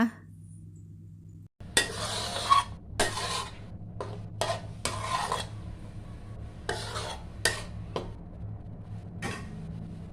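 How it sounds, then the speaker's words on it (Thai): Bamboo shoot curry with scraped featherback fish being stirred in a pan, giving repeated scraping and rasping strokes against the pan bottom with a low simmering bubble underneath, close and moderately loud. "คนเพื่อแค่ไม่ให้เนื้อปลาติดก้นกระทะค่ะ"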